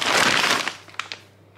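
Plastic frozen-food packaging crinkles and crushes loudly up close for about half a second, followed by a few fainter scattered crackles as the handling tapers off.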